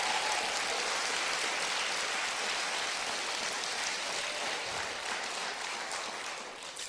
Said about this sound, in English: Give you a big round of applause to our young men of the rugby team of East High.